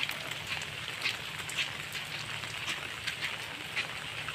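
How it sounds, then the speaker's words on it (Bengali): Heavy morning rain falls in a steady, close hiss, with louder drips and splashes patterning the surface throughout. "খুব বৃষ্টি হচ্ছে, দেখেন খুব বৃষ্টি"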